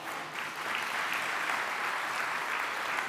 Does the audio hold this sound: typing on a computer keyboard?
no